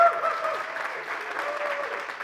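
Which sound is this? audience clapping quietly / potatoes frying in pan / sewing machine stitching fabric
audience clapping quietly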